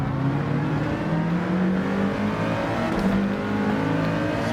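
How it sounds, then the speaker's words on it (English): Nissan GT-R GT500 race car engine on the Sardegna road track in the Gran Turismo 7 video game, a loud steady engine drone with gradual pitch changes through gears, heard alone. "we are racing the Sardegna road track here with the GTR 500"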